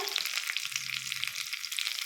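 A Byadagi chilli and curry leaves go into hot tempering oil with mustard seeds for bisi bele bath, giving a soft, close sizzle with scattered small crackles, fairly quiet and with no talking.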